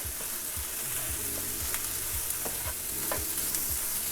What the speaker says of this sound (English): now I'm going to go ahead and mix all my vegetables and my eggs together